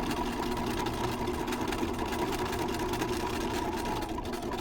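A sewing machine runs steadily while stitching a twice-turned shirt-tail hem, giving a continuous close whirring motor hum with no talking.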